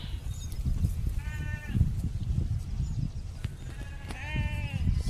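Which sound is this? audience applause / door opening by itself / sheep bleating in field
sheep bleating in field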